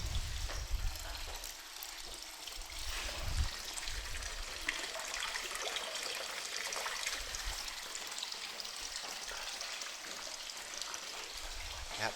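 Spring water running steadily from a public fountain in the Black Forest, Germany, a constant close splashing and trickling stream that continues for the whole stretch with no talk.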